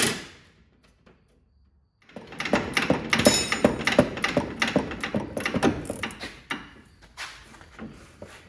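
A ratchet with a 17mm socket tightens a sway bar link bolt under a Chevrolet HHR, giving a quick run of close, rapid clicking bursts after a quiet pause.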